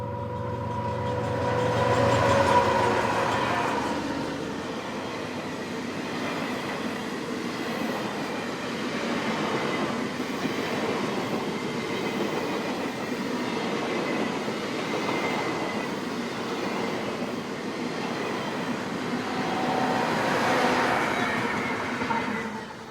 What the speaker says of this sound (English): The train went through the rocky cliffs of the Lower Narrows.